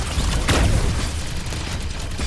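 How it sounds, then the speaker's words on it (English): Muffled explosions from the Love and Deepspace video game, set against lasers striking a floating railroad car: a deep boom swells around the midpoint over a constant low rumbling bed, with no voices. "I can hear the muffled explosions."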